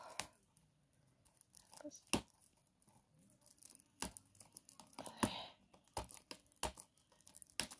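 Fingernails pick and tear at the plastic shrink wrap on a PlayStation 4 game case, giving sparse crinkles and sharp rips with quiet gaps between them, close up under intermittent talking.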